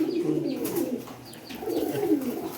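A large running pair of pigeons cooing close by, two bursts of low throaty coos over about two and a half seconds, no talking.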